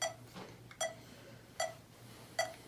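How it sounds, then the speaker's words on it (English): Four sharp metronome ticks at a steady 76 beats per minute, each a crisp click separated by quiet, with a faint low hum underneath. "So on most metronomes, there's a way to set the beats per minute so you can practice with it."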